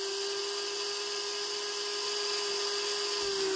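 A battery-powered cordless drill runs steadily while boring a hole, a continuous high motor whine held near and loud with no pauses, the battery running low.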